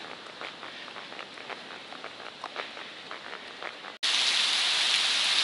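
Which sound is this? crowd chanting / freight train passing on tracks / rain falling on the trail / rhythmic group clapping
rain falling on the trail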